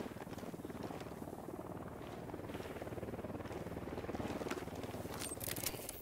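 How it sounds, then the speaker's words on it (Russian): A small drone flies in Ghost Recon Wildlands, giving off a steady buzzing whir of rapid rotor pulses that holds at a fairly even level for several seconds with no talk. "Дрон в полете."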